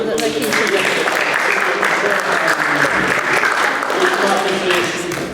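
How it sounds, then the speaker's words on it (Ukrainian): Audience applause at a Ukrainian territorial community gathering, honoring a panel of experts: steady, dense clapping from a sizable crowd filling the whole stretch at even loudness, with no pauses. "аплодіруємо нашим експертам"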